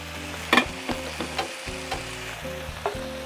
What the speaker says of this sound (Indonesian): sambil diaduk-aduk ya semua supaya tercampur rata